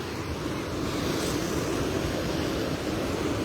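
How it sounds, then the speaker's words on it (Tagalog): Ocean waves after a typhoon wash in a continuous broadband roar of surf, steady and moderately loud, mixed with wind buffeting the microphone. "Ang sarap pagmasdan ng alon."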